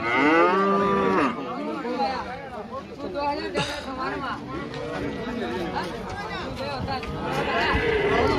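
Jersey cross cattle at a busy cattle market low and moo repeatedly, loud and close, over a steady background of crowd chatter and people talking.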